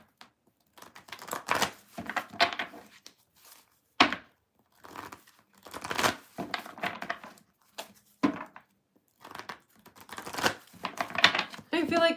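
Tarot cards being shuffled over and over, papery riffles and soft slaps in irregular bursts with pauses between them, close up.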